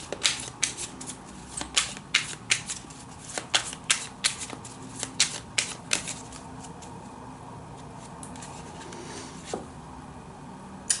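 Tarot cards are shuffled and pulled in a close, rapid series of crisp riffling flutters and snaps, dense at first and thinning out toward the end, with no talking.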